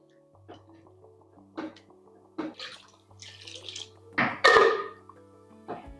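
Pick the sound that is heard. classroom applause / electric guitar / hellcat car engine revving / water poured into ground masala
water poured into ground masala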